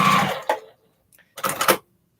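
A sewing machine stitches a postage stamp quilt top, two brief whirring bursts of rapid stitching separated by a near-silent pause.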